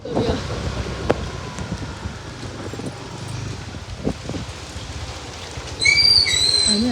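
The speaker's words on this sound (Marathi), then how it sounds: "खूप पाऊस आहे." Heavy rain pours during a motorbike ride, a steady wash of rain and wind buffeting the microphone with a few scattered knocks, swelling louder near the end.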